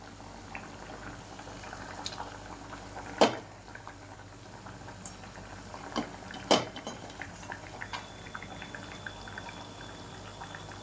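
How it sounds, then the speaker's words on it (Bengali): Fish curry broth boils in a pot, a low steady bubbling simmer with a few sharp clinks of a utensil against the pot. "এই দেখো ঝোলটা ফুটে গেছে, এবার মাছগুলো দিতে হবে।"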